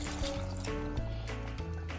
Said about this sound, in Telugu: ఒక గ్లాసు నీళ్లు పోసుకోవాలి